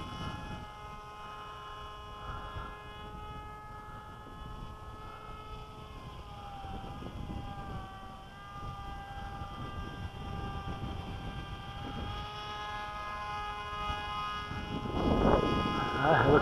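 MIA EZ Gyro 1.0 RC autogyro flying overhead, a steady high whining motor tone that slides in pitch as it maneuvers, with people talking nearby and wind noise.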